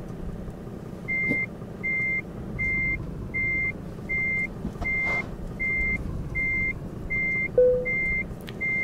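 A vehicle reverses and maneuvers to straighten up in a parking space, its reversing alarm giving a steady series of evenly spaced beeps, about ten in all, over a low engine rumble.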